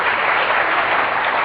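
A short burst of steady, even clapping from a group, continuous and fairly loud for a moment.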